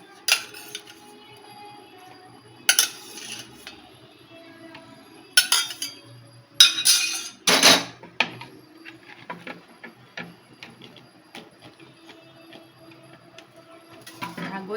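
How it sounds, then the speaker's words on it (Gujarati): Boiled mango kernels are lifted out of a pot with a metal slotted spoon, giving sporadic close metallic clinks and scrapes against quiet background. "હવે આપણે ગોટલીને ઝારામાં લઈ લઈશું."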